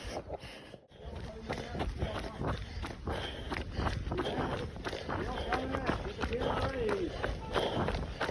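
Runners' footsteps on a trail while training for the Canadian Death Race ultramarathon, a steady patter of strides with breathing and movement, fairly close, continuing throughout.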